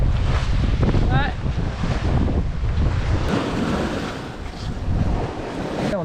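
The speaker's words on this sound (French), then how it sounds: "Et là, le vent s'est levé, la vague aussi." Strong wind roars and ocean waves surge around a sailboat on the open Pacific between the Marquises and Hawaii, a loud, continuous wash with swelling gusts.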